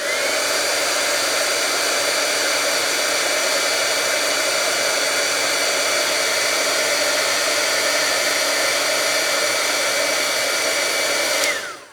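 A heat embossing tool blows hot air to melt embossing powder for a faux metal craft finish, a loud, steady whirring fan hiss that holds unbroken for about twelve seconds before cutting off at the end.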